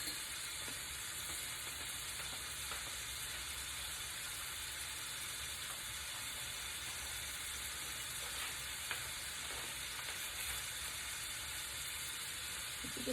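Ground beef browning in a pan for taco night, a steady even sizzle running the whole time, moderately quiet and unbroken, with no one speaking.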